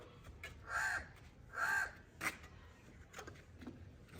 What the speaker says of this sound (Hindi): कि जब ये कौवा बोल रहा हो ना